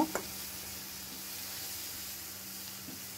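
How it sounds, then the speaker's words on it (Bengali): Shrimp frying with onion and chili in a pan gives a soft, even hiss of sizzling that runs throughout, with a small clink near the start. "চিংড়ি মাছ দিয়ে আবারও পেঁয়াজ মরিচ ভালো করে ভেজে নেব।"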